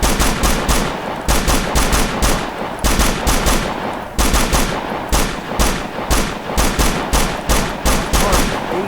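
Automatic gunfire in the video game Operation Flashpoint: Dragon Rising, steady rapid bursts of loud shots that repeat without pause for the whole stretch with no talking.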